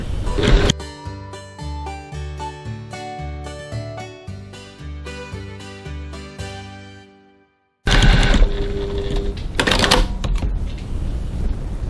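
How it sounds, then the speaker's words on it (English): A sewing machine bastes piping onto fabric, starting abruptly after a stretch of melodic background music ends and running as a steady, loud, rapid mechanical whirr to the close. "So we'll go over to the machine and baste that on as well."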